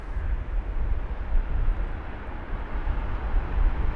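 A Japan Airlines Boeing 777-300ER landing on runway 27R at Heathrow produces a steady, loud, broadband engine roar with a deep rumble, heard at a distance and holding constant throughout.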